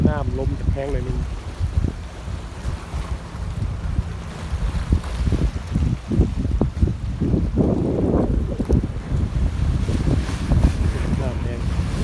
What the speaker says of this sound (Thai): มื้อนี้น้ำลมจะแข็งเลยนี่